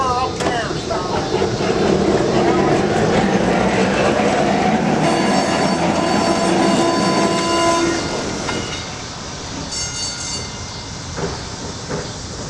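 A trolley car at the Pennsylvania Trolley Museum rolls away outbound, its wheels clattering and grinding loudly along the rails, with a horn-like tone before the noise fades; brief voices are audible.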